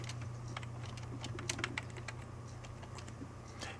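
Fingers type on a computer keyboard in quick, irregular bursts of soft clicks over a low, constant hum, fairly quiet and close.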